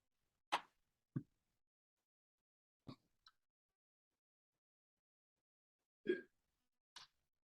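Several separate hiccups, about five or six short sharp bursts spaced irregularly over several seconds, close and clear against near silence.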